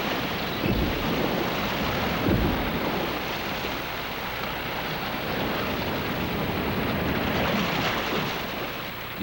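Ocean surf on a penguin shore, a continuous loud wash of waves with wind noise, steady throughout and free of voices.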